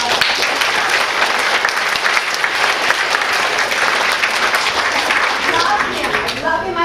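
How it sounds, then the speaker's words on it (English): Audience applause from a seated crowd at a talk, dense steady clapping filling the room for about seven seconds, loud and close, tapering slightly at the end. "Can you guys give him a big round of applause?"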